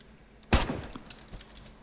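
A single sharp gunshot in the game DayZ cracks out, followed by a trailing echo and a fainter second pop over low background noise.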